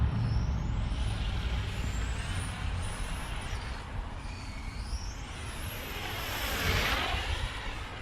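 An Xray X4 2022 electric four-wheel-drive RC touring car running stock 13.5 motor with zero ESC timing whines steadily around a track, a continuous high motor hum rising and falling in pitch, fairly loud and close, with no voices.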